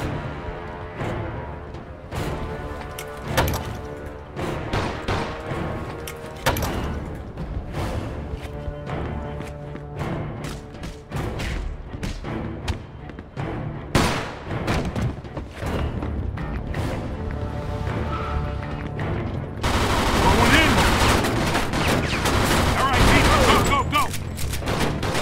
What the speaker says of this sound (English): Stop shooting that fucking thing.